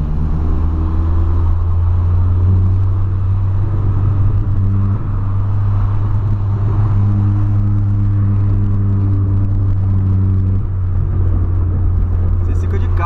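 A car drives past on a road while people talk inside another vehicle; the engine drone and road rumble stay steady and fairly loud under the conversation.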